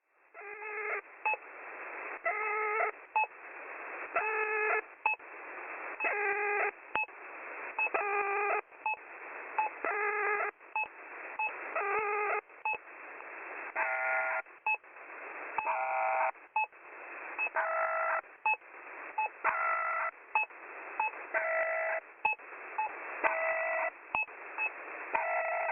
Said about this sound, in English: This took the form of a channel marker that sounds like an amalgamation of them all, the pip, the drop,